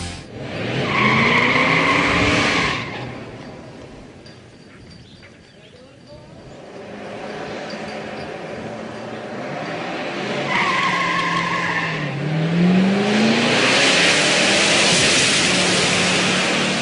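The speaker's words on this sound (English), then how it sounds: "I tried heating up the tires a fair bit" A classic muscle car does a tire burnout to heat its tires, with loud skidding tire squeal and a roaring engine in two strong bursts. Quieter engine rumble lies between the bursts.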